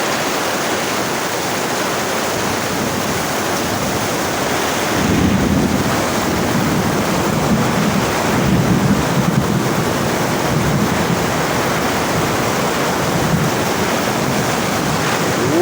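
Loud rushing water surges steadily with a continuous washing roar and some wind buffeting on the microphone, swelling slightly midway, with no talk.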